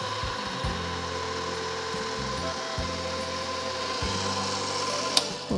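An electric mixer running on low speed whips cream with powdered sugar, a steady close-up motor whir with a rhythmic pulsing grind from the beaters, ending in a brief clack.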